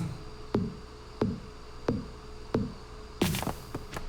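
Axe chops on a pine tree in Stardew Valley, five evenly spaced knocks about two-thirds of a second apart, then a denser burst of crackling impacts as the tree topples, over a steady game-music background.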